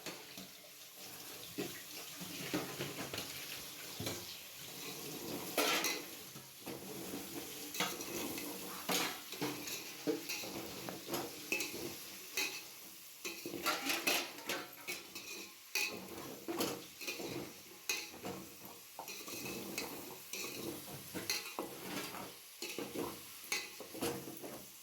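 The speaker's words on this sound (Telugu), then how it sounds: "వన్ స్పూన్ సాల్ట్ ఇంకా హాఫ్ స్పూన్ పసుపు వేసి మిక్స్ చేసుకోండి." A spoon scrapes and stirs salt and turmeric through food in a pan while cooking veg biryani and egg curry, with repeated clinks against the metal and faint running-water and dish noise in the background.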